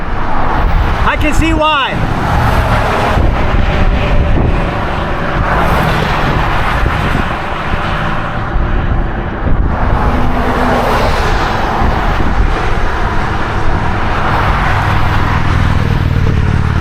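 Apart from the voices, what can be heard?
busy road traffic passing on State Route 17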